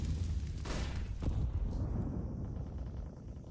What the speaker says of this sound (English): Tizian and Tabson both cop the nades.